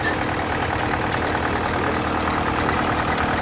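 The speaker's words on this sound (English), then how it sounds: "this is International's T6 crawler, powered by a 4-cylinder petrol TVO engine" An International T6 crawler's 4-cylinder TVO petrol engine idles close by at the Great Dorset Steam Fair, with a steady, rough, rhythmic chugging and low rumble that never changes over a few seconds.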